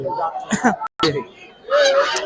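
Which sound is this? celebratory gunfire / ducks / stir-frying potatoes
ducks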